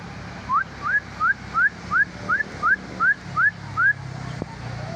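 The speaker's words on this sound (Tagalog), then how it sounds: "Sisipulan ko lang yung aking alaga para bumalik." Ten short, evenly spaced rising whistles, clear and fairly close, like someone whistling to call an animal back, with soft outdoor noise underneath.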